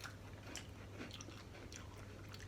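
Japanese snacks being crunched and chewed up close, with a series of faint irregular crisp bites and munching over a low steady hum.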